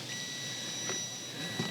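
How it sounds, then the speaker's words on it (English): A test meter beeps continuously while checking a boat's neutral safety switch: a steady, clear electronic tone held through the moment over faint background hiss. "Yep, I'm getting a beep right away."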